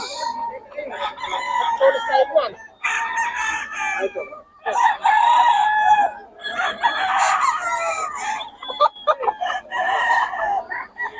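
Several roosters crow one after another, with chickens clucking among them, all close and loud at a fowl market in Bocaue, Philippines, where birds are on sale.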